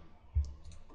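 A single short, soft mouse click sounds close by in an otherwise quiet room.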